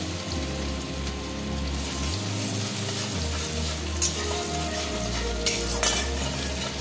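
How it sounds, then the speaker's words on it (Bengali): Chopped onion fries in hot oil with a continuous bubbling sizzle, close up, with a low hum underneath and a couple of sharp clinks from stirring. "একটা পেঁয়াজ কুচানো দিয়ে দিচ্ছি। পেঁয়াজটা হালকা ভেজে নেব।"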